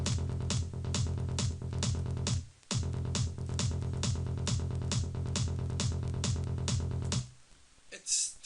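Straight psytrance kick and bass line without velocity dynamics, an even, driving stream of identical low thumps at constant loudness, briefly dropping out once mid-pattern and stopping near the end.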